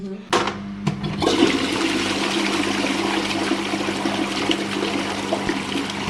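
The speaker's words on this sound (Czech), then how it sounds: "někde půjdeme dolů spláchnout" A toilet flushes close by: a sharp clunk of the handle, then a loud, steady rush of draining water that runs on for several seconds in a household bathroom.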